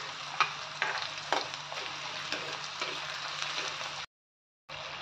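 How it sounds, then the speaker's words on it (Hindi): Masala for moong dal sautéing in a pan, a steady sizzle and crackle with regular scraping stirs, broken by a short gap of silence near the end. "मसाला अच्छे से भुन चुका है,"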